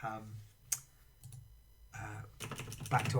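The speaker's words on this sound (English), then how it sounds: "I'm typing because I know what I'm looking for" Typing on a computer keyboard while searching for planks in Minecraft: Education Edition, with scattered key clicks and a sharp tap early on, then denser rapid typing near the end, all under occasional talking.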